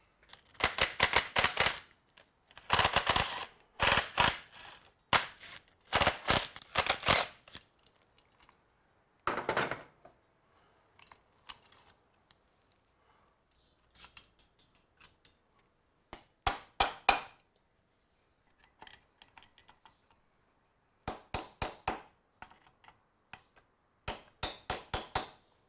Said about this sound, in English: So I'll just have to undo these screws now on the pressure plate, remove the pressure plate, and then tab washer and nut